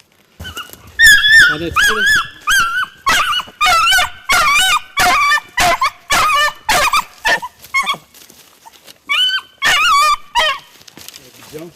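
A tracking dog barking loudly and repeatedly at close range during a hunt, in a steady rhythm of sharp barks with no talking.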